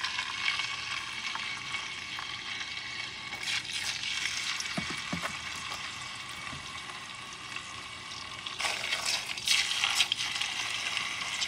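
Pork rinds for Puerto Rican chicharrones sizzle and crackle in a pan of hot oil, a steady close fry with bursts of louder popping as more pieces go in.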